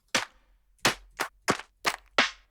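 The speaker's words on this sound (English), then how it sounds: "We have these different claps." Six separate clap samples from a Splice sample folder play one after another in Impact XT, each a sharp, bright snap with a short decay, spaced irregularly and heard alone.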